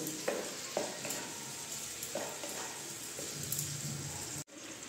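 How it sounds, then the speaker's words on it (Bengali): Grape chutney with spices stirred in a pan, a steady close sizzle with the spoon scraping through it at irregular intervals. No one talks. "এখন আমি একটু নাড়াচাড়া করে 5 মিনিট রেখে তারপরে আমি নামিয়ে দেব।"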